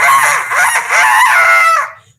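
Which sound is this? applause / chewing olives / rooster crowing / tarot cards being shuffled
rooster crowing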